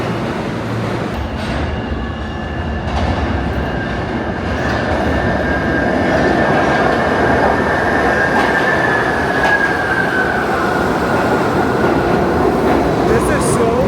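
A crowded subway train in a Brooklyn station rumbles steadily and loudly nearby, with a long metallic wheel squeal rising and falling over the clatter for most of the span.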